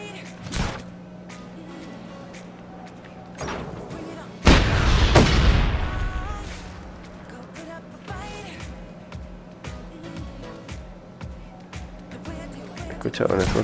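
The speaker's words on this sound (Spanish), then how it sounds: "Escuchaba una explosión." An explosion in the video game Just Cause 3 lands as a single loud, close boom about four seconds in and rumbles on for a few seconds, over a steady game hum with a voice talking.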